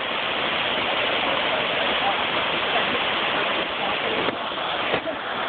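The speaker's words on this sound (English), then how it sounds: "There's a waterfall in all glory." Maunawili Falls roars steadily in a broad, constant rush of falling water, loud and close, with a couple of faint knocks near the end.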